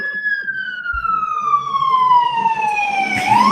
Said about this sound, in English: you can hear right now probably sirens going by